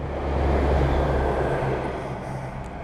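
A train rumbles past close by on a bridge over a river, a steady heavy low roar with rattling that swells and slowly fades over a few seconds.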